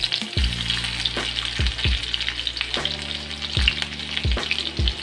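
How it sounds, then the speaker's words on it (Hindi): Green chillies and garlic frying in hot oil, crackling and sizzling steadily up close, with several dull knocks of a spoon stirring the pan spaced through it and no talk. "अब हम ये सब तेल में पहले हरी मिर्च छोड़ेंगे।"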